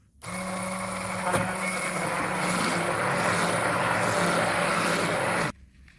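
A blender whips cottage cheese soufflé mixture, whirring loudly and steadily for about five seconds, starting abruptly and cutting off sharply, with no talking.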